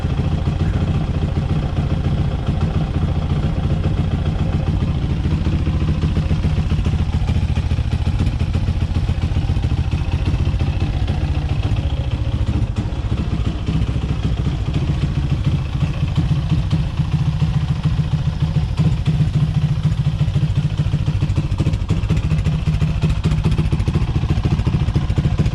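A Grom clone Mach 2 motorcycle engine idling, a steady close putter with light mechanical clatter running unbroken and alone.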